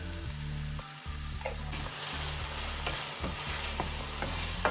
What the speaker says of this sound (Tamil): சேர்த்து நல்லா பிரட்டிட்டு திரும்பவும் கொஞ்சம் அவிய விடுறேன்